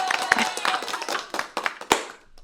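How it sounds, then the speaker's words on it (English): Audience clapping at a lender introduction event, a short patter of scattered hand claps rising and falling with sharp individual slaps, trailing off at the end, with voices mixed in. "I got claps and everything."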